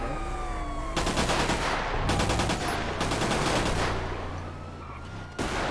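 Bursts of rapid automatic gunfire in a GTA V roleplay game, several loud volleys cutting in and out over about six seconds, with a siren-like wail and game ambience between bursts.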